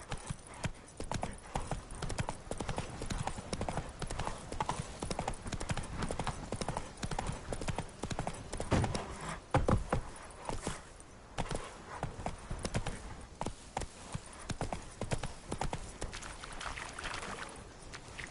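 Rapid, continuous hoofbeats of a galloping horse in the video game The Witcher 3 drum close and loud throughout, a brief whinny rising at one point over faint background game ambience.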